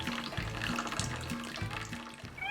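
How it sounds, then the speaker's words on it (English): Water-contaminated oil draining from the transmission of a Sears Custom 10XL garden tractor, a steady close trickling and splashing stream with a faint pulsing rhythm, no voices. "draining the oil out of the trans"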